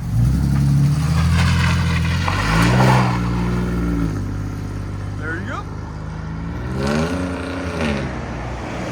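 2025 RAM 1500 pickup with a 3.0L twin-turbo Hurricane inline-six and side-exit straight pipes, revving in the rain in several loud rising and falling bursts, with someone speaking briefly between revs.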